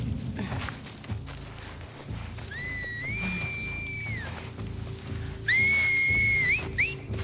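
Enemies whistle to each other in The Last of Us Part II, clear rising two-tone whistles near 2 kHz heard twice, a long one and then a louder pair of shorter calls, over low game ambience and rumble.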